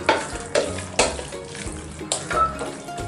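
Chicken biryani masala with rock salt frying in a pan, stirred in a few heavy scraping strokes over a constant sizzle, close and loud with no speech.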